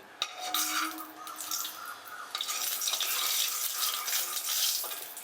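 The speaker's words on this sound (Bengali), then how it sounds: "ঘিটা দেওয়ার পর ঘিটা মেল্ট হতে দেব" Ghee added to leftover oil in a pan after frying potatoes sizzles over a gas flame with a steady, moderately loud hiss and soft crackle, without any talking.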